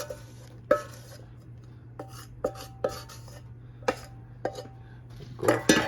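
Apple pie filling is stirred in melted butter in a pan, with a utensil scraping and clinking sharply against the pan in irregular knocks over a faint background hum.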